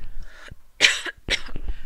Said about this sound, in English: sorry, I'm just coughing a little bit